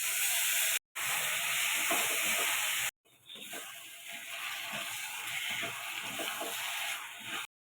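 A prepared spice paste for chilli paneer hits a hot pan and sizzles with a loud, steady steam-like hiss, broken by two brief silent gaps before settling into a softer, continuous frying crackle.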